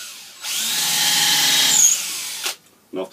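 A power drill bores into a wooden dowel while a walking stick is being made, its steady whine rising and holding for about a second and a half close by, then cutting off with a couple of brief knocks after.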